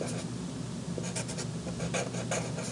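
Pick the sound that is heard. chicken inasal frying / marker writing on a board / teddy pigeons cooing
marker writing on a board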